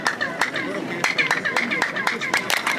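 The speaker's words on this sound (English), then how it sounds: "when you clap, you can hear this crazy echo" Sharp hand claps repeat at a steady pace, each followed by a brief chirping echo off pyramid stairs in Mexico, heard outdoors while people talk nearby.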